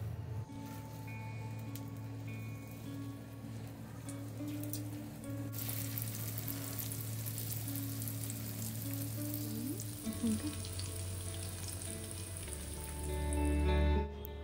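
Rice-flour pitha fry in hot rice bran oil in a frying pan, giving a steady close sizzle and bubbling throughout with a few stirring scrapes, with no talking.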